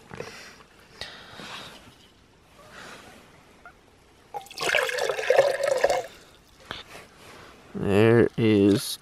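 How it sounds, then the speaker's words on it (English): Boiling water pours in a broad splashing gush for a couple of seconds, then gurgles briefly, with a voice talking around it. "add 2 cups of boiling water"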